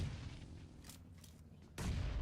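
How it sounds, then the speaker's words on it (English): Gunfire crackles in a battle royale video game match at an esports tournament, with several faint bursts of shots and a louder burst near the end. "gunfire coming in from the back inside"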